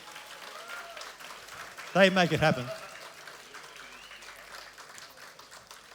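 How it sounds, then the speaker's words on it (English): Soft, distant applause from a concert crowd at a club showcase, given for the volunteers, runs steadily in the background while a voice speaks briefly over it. "Please, a huge round of applause."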